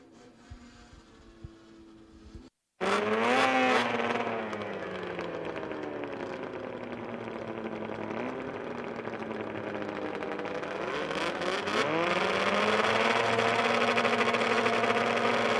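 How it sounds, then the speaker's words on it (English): Power toboggans race off the starting line at the Canadian Power Toboggan Championships. After a brief drop to silence, loud engines roar up together and hold a steady, buzzing drone. The pitch rises and falls through the run, with no one speaking. "The 91 and the 29 off the starting line quick."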